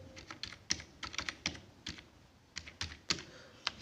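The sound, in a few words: typing on a computer keyboard to enter details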